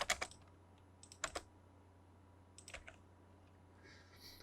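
Keystrokes on a computer keyboard while drafting in AutoCAD, with a few scattered taps and short clustered bursts ending in firm presses like hitting enter, close and fairly quiet with no talking.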